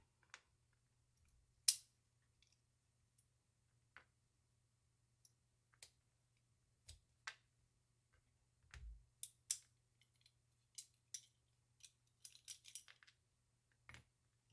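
Small metal parts clicking and ticking while the hammer is taken out of an airsoft M4 V3 fire control group: sparse, quiet, close clicks spread across a near-silent background, bunching into a quick cluster toward the end.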